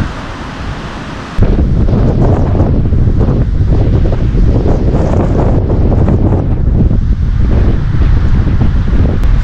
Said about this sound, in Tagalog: lakas ng hangin to